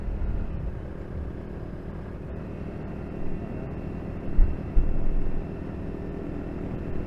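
A Honda CRF300 Rally motorcycle pulls steadily uphill in fourth gear, its engine a constant low drone mixed with wind buffeting, with a couple of brief bumps near the end and no talking.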